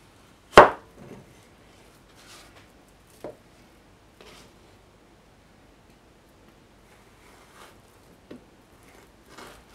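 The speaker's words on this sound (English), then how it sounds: "Then just going to cut it into our fry strips" A knife slicing plantain into fry strips on a board: sparse single cuts, one sharp knock then several softer taps spaced seconds apart, close and quiet with no talk.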